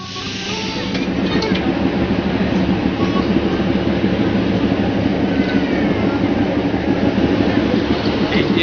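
Small diesel engine of the Darjeeling toy train on the narrow-gauge line, a loud steady rumbling drone with a rhythmic throb that builds in the first second and holds, close by, with voices faintly mixed in.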